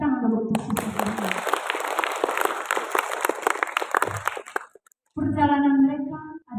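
An audience at a prayer service and mini concert applauds, a dense wash of clapping that lasts about four seconds and fades out, followed by a voice speaking.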